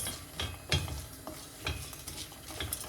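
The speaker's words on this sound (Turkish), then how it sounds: "Şöyle yavaş yavaş sabırla mısırlarımı kavurmaya devam ediyorum." Dry popcorn kernels rattling and scraping in a pot as they roast, with irregular soft clatters and a faint sizzle throughout.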